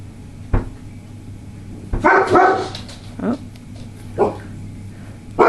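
A dog barks indoors in a few separate short bursts spaced a second or so apart, fairly close, over a faint background hum.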